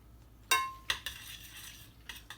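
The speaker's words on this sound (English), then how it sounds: "So we're gonna stir that up." A utensil stirring Kraft macaroni in a pot on a Frigidaire Gallery induction cooktop: a few metallic clinks and scrapes, one bright ringing knock, then softer taps; close and quiet, no talking.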